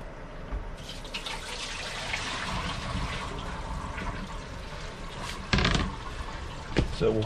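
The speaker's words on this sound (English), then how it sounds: "we're going to empty this water one more time" Water sloshes and pours out of a kitchen sink fitting during a faucet replacement, a continuous splashing run with a louder gush and splash near the end.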